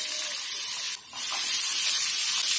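Half an onion dropped into hot oil with cumin, mustard seeds and asafoetida sizzles with a broad steady hiss, briefly dipping before swelling louder and continuing alone.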